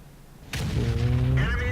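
A large tank gun in a video game fires a single heavy shot, a sudden loud boom with a ringing tail that hangs under background game noise.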